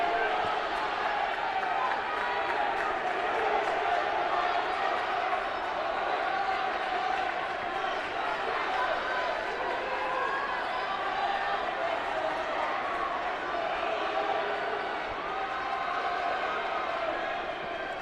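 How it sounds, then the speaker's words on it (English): Crowd at an indoor track and field conference championship race cheering steadily throughout, a dense continuous roar that swells under a race commentator's voice. "Crowd getting louder."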